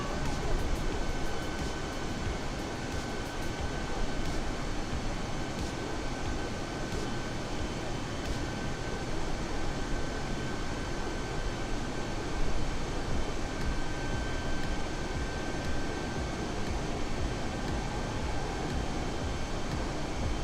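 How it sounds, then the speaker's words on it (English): Exterior engine roar of an Airbus A320neo in Microsoft Flight Simulator 2020, a dense, steady broadband rumble with a faint whine, loud and unbroken for the whole stretch. "it's really loud on the outside of the plane"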